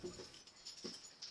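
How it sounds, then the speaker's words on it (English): A pet dog gives a couple of soft, brief whimpers somewhere in a quiet room, very faint and far from the microphone. "I'm sure now you can probably hear my dog."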